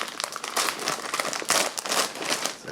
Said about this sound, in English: Let's tear in. We've got a fairly light duty clear plastic bag on the outside.